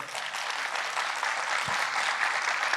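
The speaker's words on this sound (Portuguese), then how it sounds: "Uma salva de palmas para o seu Sérgio, por favor." Audience applause for Sérgio at a mental health and wellbeing event, a steady wash of clapping held at moderate loudness for the whole stretch, with no voices over it.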